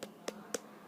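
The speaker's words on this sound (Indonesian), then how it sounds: "Tepuk semangat." Children in a classroom give a quick rhythmic spirit clap, with three short, sharp hand claps spaced evenly apart at moderate volume and no talk over them.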